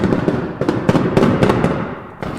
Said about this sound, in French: S'ensuivent des échanges de tirs.